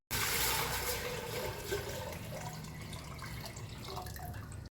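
Water pouring into a large kitchen vessel, a continuous splashing gush that starts strong and settles into a steady running flow before cutting off.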